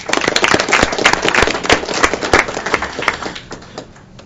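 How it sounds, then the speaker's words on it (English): Applause at a disability advisory committee meeting: a room of people clapping in sharp, distinct claps at first, then thinning out and fading away toward the end. "let's give Susan one more round of applause"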